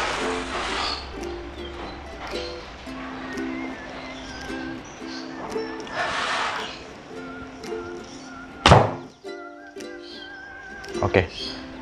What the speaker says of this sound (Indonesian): itu tadi tembakan pertama